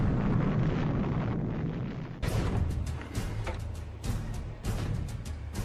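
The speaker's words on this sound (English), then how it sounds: "imagine their reaction to the detonation of the father of all bombs" Detonation of the Father of All Bombs, a massive air-dropped thermobaric bomb: a sustained loud roar and rumble of blast and wind, followed by repeated sharp cracking bursts like rolling explosions or artillery.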